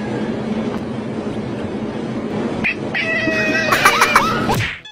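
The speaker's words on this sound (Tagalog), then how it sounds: "Pati pusa, tumilahok na rin" A cat meows in a run of bright, wavering cries near the end, rising out of a busy background of muffled noise and rumble.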